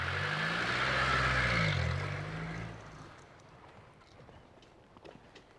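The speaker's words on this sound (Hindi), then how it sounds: "गाड़ी थोड़ा आगे ले जाओ।" A car rolls forward a short distance outdoors, its engine hum rising and swelling briefly before fading away, leaving faint scattered background noises.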